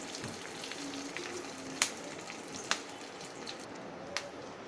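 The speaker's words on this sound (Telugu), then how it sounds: "పోపు వేగేంత వరకు ఫ్రై చేసుకోవాలి" Steady crackling sizzle of tempering spices and curry leaves frying in hot oil, with a few sharp pops standing out over the continuous hiss.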